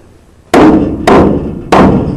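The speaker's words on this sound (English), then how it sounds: "I'm gonna have to use a hammer." Three loud, sharp hammer blows driving a wooden board into a stock trailer floor, evenly spaced with short ringing decays, no voices.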